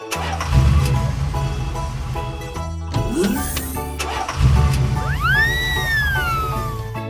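A truck engine starts and idles with a low, throbbing rumble, drops away for a moment, then resumes beneath rising whistle-like effects and background music; close and steady.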